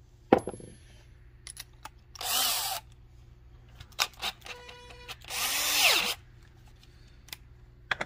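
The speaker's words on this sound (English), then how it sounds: "What you want to do is use an actual drill." A power drill (not an impact driver) whirs in two short bursts of a couple of seconds each, separated by quiet clicks and handling noises close by.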